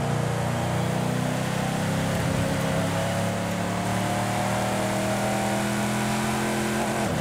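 Car engine in Forza Horizon 5 held near the rev limit, a loud sustained high-revving drone with steady harmonic tones throughout.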